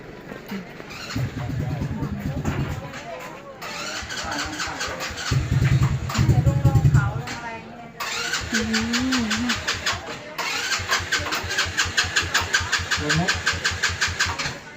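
A Thai three-wheeled samlor motor tricycle starts up with repeated cranking bursts, then its small engine catches and idles with a steady putter; voices speak over the engine throughout.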